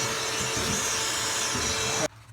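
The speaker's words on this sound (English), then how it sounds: "I'm going to go ahead and vacuum that out" A vacuum cleaner runs loud and steady while sucking dirt out of a household dryer vent, with rough scraping and rattling as debris passes through, then cuts off abruptly near the end.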